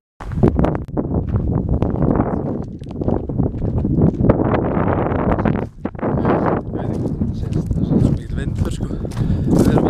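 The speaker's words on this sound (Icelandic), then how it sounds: "Vindur sko." Heavy wind buffets the microphone in a continuous loud rumble throughout, with people talking over it outdoors.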